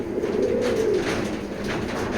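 Racer pigeons coo nearby, a soft rolling call rising and falling over a steady background murmur of the loft.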